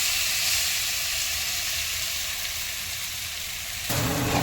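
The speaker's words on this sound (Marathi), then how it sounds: "चला तूप गरम झालेला आहे त्यामध्ये हे घालूया" Grated sweet potato hits hot ghee in a pan for sweet potato kheer, a loud, steady sizzle close by that shifts briefly near the end as the mixture settles.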